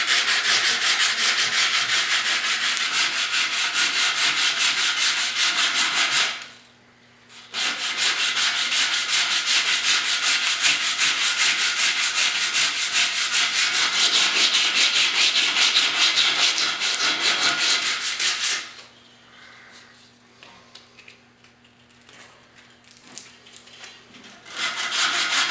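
Steady hand sanding of a rusty steel tire rim with 150 grit sandpaper, a continuous close scratchy rubbing that pauses briefly once, then resumes more softly near the end.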